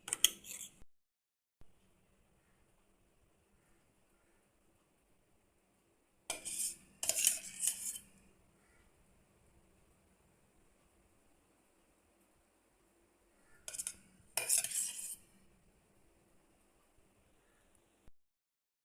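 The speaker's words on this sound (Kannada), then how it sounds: "ತುಪ್ಪ ಹಾಕಿ ಮಿಕ್ಸ್ ಮಾಡೋದು." A spoon clinks against a bowl while mixing ghee into rava cake batter made of semolina, milk and wheat flour, in three short bursts of scraping and tapping separated by quiet pauses.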